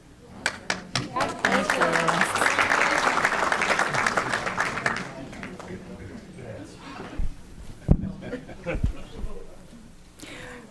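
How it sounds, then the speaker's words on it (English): An audience at a school board meeting claps warmly for about five seconds, a steady wash of applause that fades into a few scattered claps and taps while people talk. "Every group gets applause."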